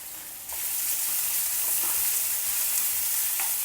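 Finely chopped ginger, about a quarter cup, fries in oil in a pan, a steady hiss jumping up in loudness as it hits the heat and then holding even, with a few faint stirring clicks.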